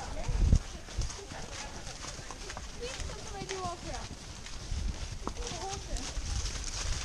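A horse cantering over cavaletti poles, its hooves thudding in an uneven rhythm at mid distance, heard faintly beneath people talking.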